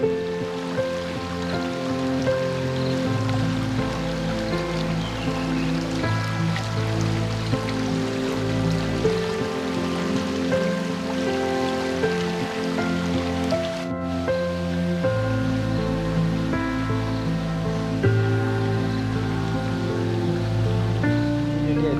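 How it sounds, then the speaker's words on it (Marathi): Rain-fed streams flow steadily beside rice paddies, a continuous soft rushing wash of water with no voices. "या दोन दिवसाच्या पावसाने पुन्हा ज्या स्ट्रीम्स आहेत त्या प्रवाहित झाल्या आहेत"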